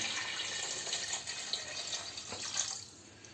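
About 1.5 litres of water is poured into a pressure cooker holding lamb trotters for soup, a faint, close, uneven trickle and splash that fades toward the end.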